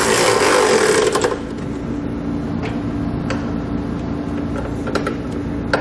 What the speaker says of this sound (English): we'll use a 13mm socket and we'll tighten up all the bolts